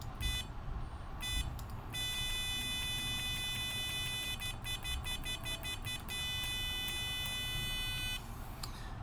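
An electronic buzzer on a controller sounds a bright, pitched tone that is switched on and off. It gives short blips, then one long sustained tone, then a rapid run of short beeps before stopping, all over a faint background hum.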